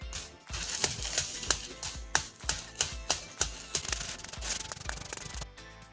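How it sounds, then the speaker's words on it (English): Pastry dough for cannoli chips is rolled very thin between sheets of parchment. A rolling pin makes a steady series of close, rhythmic rubbing strokes, about one every half second. "I like rolling out between parchment."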